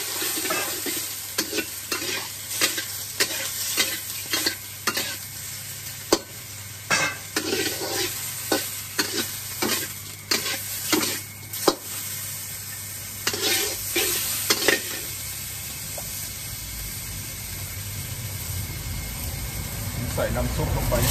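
Shrimp stir-fried in a hot wok for a spicy Thai stir-fry, loud rapid scraping of the spatula against the metal and strong sizzling, with someone talking at times over the kitchen noise.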